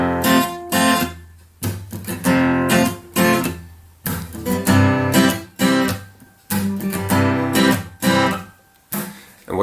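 Studio version of a song, with acoustic guitar strumming in a rhythmic, choppy pattern of bright chords and brief gaps, loud and up close with no talk.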